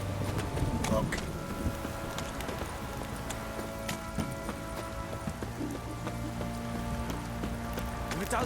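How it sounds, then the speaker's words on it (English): Rain in the video game The Witcher 3 patters steadily over a low, continuous rumble, with rhythmic hoof-like clopping and a few scattered knocks throughout. "If it don't stop raining, my arse will rock."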